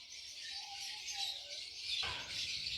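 Lovebirds chirp and twitter continuously in a dense, high-pitched chatter, close by, with a brief tonal call partway through.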